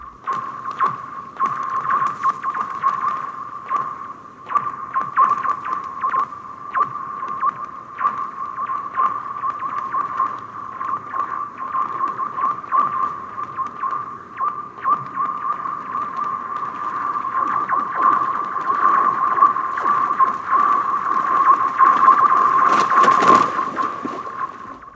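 Ice skates glide over thin ice, giving a sustained, steady ringing tone under scraping and knocking. It swells somewhat louder toward the end, with a sharp burst near the close.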